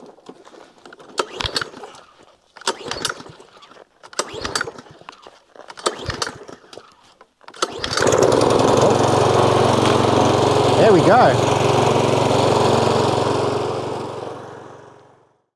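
An old lawn mower on a Portuguese farm: four rasping pull-cord tugs, each followed by a pause, then the engine catches and runs loud and close with a steady drone for several seconds before fading; someone speaks briefly.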